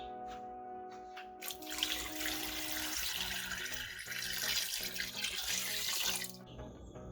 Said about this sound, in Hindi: साथ ही मैं इसमें पानी ऐड करूंगी तकरीबन 2 से 3 जग।